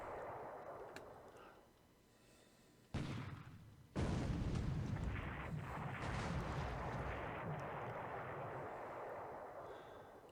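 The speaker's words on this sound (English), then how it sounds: "You get some explosion noises" A pair of sudden, loud explosions in a World War II Pacific strategy video game, missed shots at Clark Field, the second bigger and followed by a long rumbling decay over a wind-like background.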